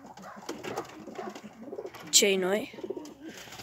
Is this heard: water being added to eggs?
no